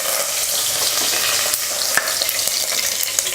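Cinnamon, cardamom, cloves and star anise fry in hot oil, a loud close continuous sizzle with faint crackles and no talking.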